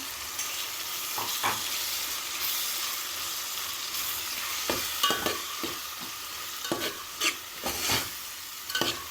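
Green chili paste for kichidi fries in a pan under a continuous sizzle, with repeated spatula scrapes and taps that grow busier toward the end, and no one talking.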